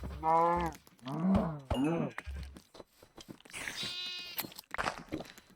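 Minecraft sheep bleat several times in short wavering cries, close and clear, with occasional crunching sounds between them and no talking.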